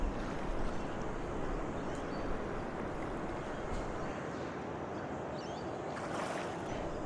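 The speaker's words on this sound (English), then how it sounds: "It's just you, God, and the sound of the waves." Ocean waves wash steadily and loudly against a shore for several seconds, a continuous broadband surf roar with a bit of wind noise and no talking.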